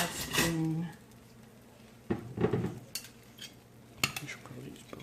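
Spoon scraping and scooping asparagus gratin from a baking dish, a few close clinks and scrapes of metal against the dish spaced out over several seconds, with quiet background between.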